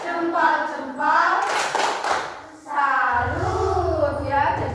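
A classroom of children does a thumb-clapping cheer, a brief burst of quick, soft claps mixed into lively group chanting from young voices, with a teacher's voice nearby.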